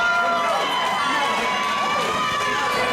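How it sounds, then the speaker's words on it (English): A wrestling arena crowd cheers and shouts in a dense, sustained roar, loud and constant throughout, with a commentator's voice blended in. "The crowd giving him a champion's goodbye here."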